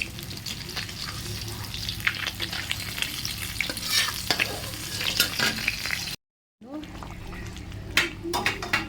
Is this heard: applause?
no